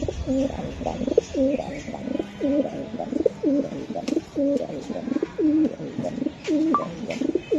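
Racing pigeons in a breeding loft, a pair including a breeding hen, coo in a repeated rolling rhythm, close and fairly loud, with faint background clatter.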